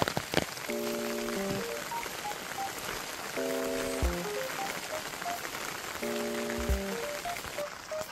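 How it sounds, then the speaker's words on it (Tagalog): Steady rain falls on a surface outdoors among pili trees, a continuous dense patter throughout, with repeated electronic beeping tones in short bursts over it and no talking. "May payong tayo kasi umuulan. Umuulan guys."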